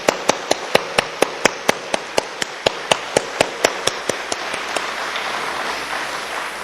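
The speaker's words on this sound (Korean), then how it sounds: "우리 교회의 어머니 아버지 같은 선배 어르신들을 위해서 우리 힘찬 박수로 격려합시다." Congregation in a church service clapping together, a regular series of sharp claps, roughly three per second, that fades into a softer diffuse room wash by the end.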